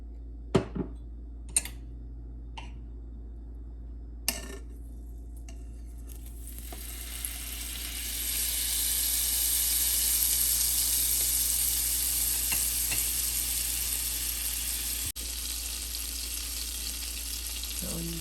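Oil and butter sizzle steadily in a hot wide pan, the frying hiss swelling after a few sharp clinks of utensils at the start and continuing loud and close to the end.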